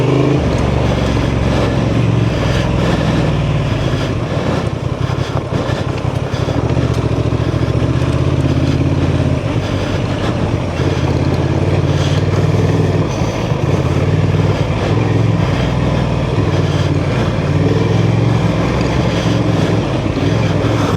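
A 2024 Honda Transalp 750 motorcycle rides off road at Enoree OHV, its engine droning steadily and loudly for the whole stretch with rough fluctuations and wind buffeting.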